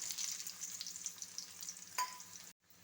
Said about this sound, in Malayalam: കടുക് പൊട്ടി തീരുമ്പോഴത്തേക്ക് ഉള്ളി ഇട്ട് കൊടുക്കാം.